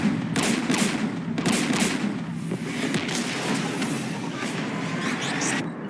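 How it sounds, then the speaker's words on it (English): Enemy gunfire pouring onto Shepard's squad during a Mass Effect 3 firefight, with sharp cracks at the start followed by a steady, dense rattle of automatic fire. "We're taking fire"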